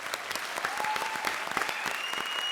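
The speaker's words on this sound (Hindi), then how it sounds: "जोरदार मेरी फिल्म के लिए ताली।" Sustained audience applause from a studio crowd at a comedy show, dense steady clapping that runs loud and unbroken throughout, with no speech over it.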